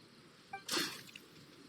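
A splash of water thrown onto a drunk man in the video game Genshin Impact, heard as a faint short squishy wet burst, briefly splattering then dripping away over quiet background ambience.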